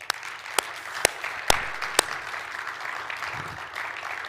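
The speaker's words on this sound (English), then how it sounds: "Can we just give them another big round of applause?" Audience applauding volunteers at a gathering, a moderate wash of clapping punctuated by several sharp, louder individual claps spaced about half a second apart.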